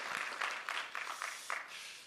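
A few scattered, faint claps from a small audience at a blockchain conference talk in Bangkok, sounding as a handful of separate bursts with no talk over them.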